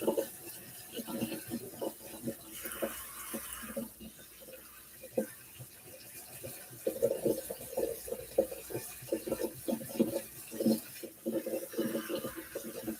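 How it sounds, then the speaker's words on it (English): Cold tap water rinses brown rice to wash off the starch, making a quiet, uneven splashing and rattling of grains under the running stream, with soft bursts of stirring. "I'm rinsing off the starch."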